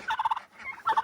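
A turkey from a farm flock gobbling close by, with two quick, rattling bursts separated by a short pause.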